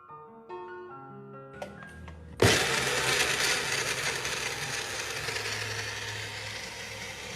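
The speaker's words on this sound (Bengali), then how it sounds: "এবার জুস বানানোর জন্য পেঁপেগুলোকে কেটে কেটে সুন্দর করে ব্লেন্ডার মেশিনে দিয়ে দিচ্ছে" Electric blender whirring papaya and milk into juice: after a few light musical notes, the motor kicks in abruptly and runs loud and steady to the end.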